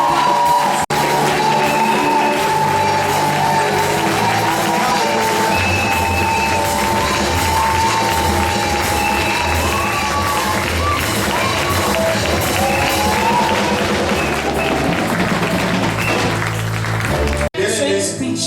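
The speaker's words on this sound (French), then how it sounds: "Acclame fort pour le Seigneur des Seigneurs." A church congregation cheers and acclaims loudly and continuously over music and voices, with a sustained crowd roar that breaks off near the end.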